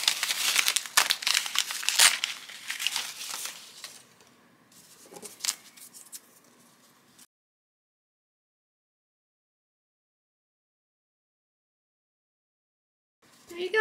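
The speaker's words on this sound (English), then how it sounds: "now I'm just going to go to the back of my block and rip all the paper off" Foundation paper being torn off the back of an appliqued quilt block, with loud crinkling rips for several seconds, then quieter tearing before silence.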